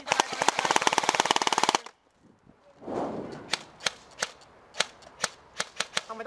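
Airsoft guns, including an Mk18 Mod1 and an M4 SOPMOD, fire during an outdoor skirmish game in Thailand: a long rapid automatic burst nearby, a brief pause, then scattered sharp single shots at an uneven pace.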